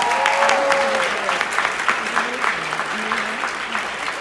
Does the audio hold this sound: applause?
yes